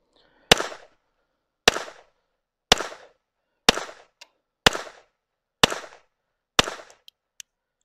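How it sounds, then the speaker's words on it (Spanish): Seven sharp, evenly spaced gunshots from a Llama XV .22 caliber pistol at an outdoor shooting range, each crack dry and brief with a short tail, fired about one second apart, followed by a couple of faint small clicks. "como ven, no deja la recámara abierta, sin embargo los siete tiros fueron"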